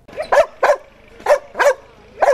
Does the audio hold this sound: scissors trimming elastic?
no